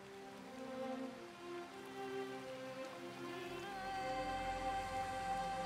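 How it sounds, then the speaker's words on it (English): Steady rain falls in the video game Hellblade 2, a continuous patter on surfaces with a layered tonal game ambience underneath, growing slightly louder toward the end. "All this rain made me cold."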